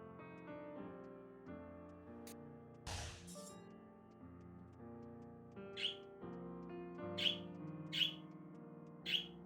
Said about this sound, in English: Oh, listen to those happy singing birds.